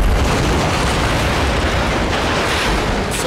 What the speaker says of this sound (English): We'll go ahead and finish the sucker with a C4 for proof of concept here.